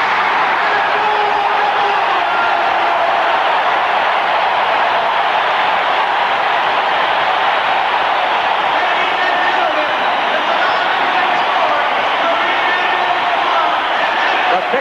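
Basketball arena crowd roaring and cheering for Kareem Abdul-Jabbar, a dense, loud, sustained wall of cheering that fills the whole stretch, with voices shouting within it.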